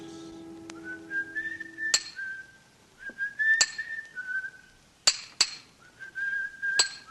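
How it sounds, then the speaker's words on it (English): Cheery melodic whistling from a monumental mason's stone yard in an old-time radio drama, several bright tunes broken by sharp metallic clinks of a hammer striking steel on stone, close and clear without talk. "From the yard itself came a cheery whistle"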